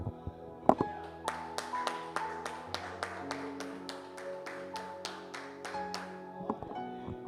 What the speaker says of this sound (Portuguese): E um aplauso ao Senhor.